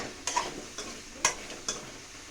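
Onions with tamarind frying in a pan, faint sizzling with a few soft scraping stirs and light clicks of a utensil, no talking.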